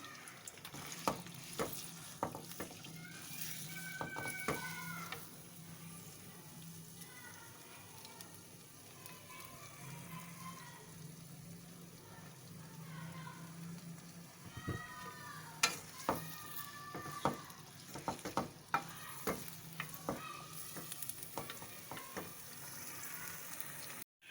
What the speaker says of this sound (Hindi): एक चमचा अदरक लहसुन का पेस्ट है ये। इसको थोड़ा सा सौते करेंगे।